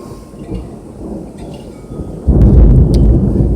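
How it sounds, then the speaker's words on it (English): Heavy thunder during a rainstorm: steady rain hisses, then a sudden loud, deep rumbling crash breaks in about two-thirds of the way through and keeps roaring close by to the end. "Now we got the thunder."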